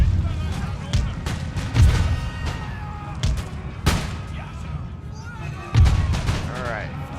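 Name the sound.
artillery firing in the video game Empire Total War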